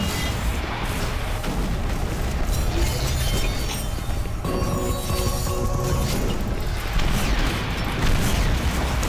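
Rocket impacts and explosions against enemies in the shooter Doom 3, a dense run of booming blasts and mechanical game noise, fairly loud and continuous, with no voices.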